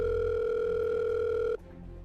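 An unanswered phone call rings out as a steady electronic tone heard close up, then stops abruptly, leaving a low background hum.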